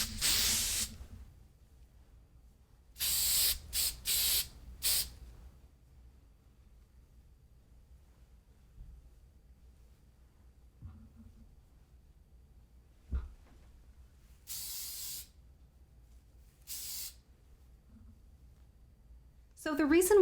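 Hairspray hisses onto a wig in several short, close bursts, one cluster of quick sprays and then a couple more later, separated by near-silence.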